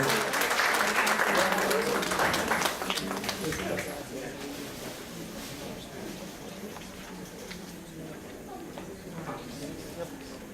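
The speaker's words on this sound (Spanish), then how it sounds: "despedimos con un aplauso al doctor Miguel García, en excelente exposición" Audience applause for a speaker at an international congress on administrative law: a dense burst of clapping for a few seconds that thins and fades as a voice begins to speak.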